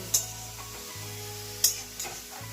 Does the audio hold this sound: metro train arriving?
no